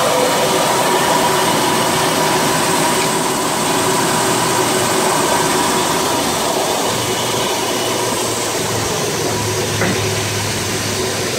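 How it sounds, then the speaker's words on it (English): A machine grinding down a jade rock in Jade City, British Columbia, giving off a loud, steady, broadband whirring roar that holds without a break throughout, with no voices over it. "We're just getting a rock ground down as a stand for the block that we're buying."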